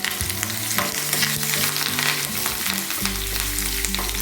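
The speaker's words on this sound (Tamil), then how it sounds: "இந்த கருவேப்பிலை கொஞ்சம் நேரம் இந்த எண்ணெய்க்குள்ளே நல்லா பொரிஞ்சு" Curry leaves crackle and sizzle in hot oil, cooked for a Tamil multigrain adai: a dense, steady frying hiss close up with bright spits throughout, and the texture shifts slightly near the end.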